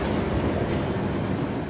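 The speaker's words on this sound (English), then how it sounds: "All right, yeah, train bumping." A train rumbles along in the action game Uncharted: The Lost Legacy, a dense, steady low roar of wheels and carriages, close and continuous.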